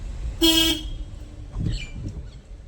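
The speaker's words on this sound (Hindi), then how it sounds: "हॉर्न दे देना।" One short, bright car horn honk, close by, followed by low engine and road noise.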